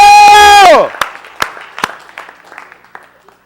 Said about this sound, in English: Give Ryan a hand clap